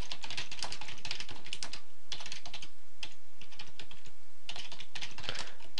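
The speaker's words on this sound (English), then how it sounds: "Type the same password again." Someone types a password on a computer keyboard, a close, brisk run of key clicks in uneven bursts with brief pauses, no voices.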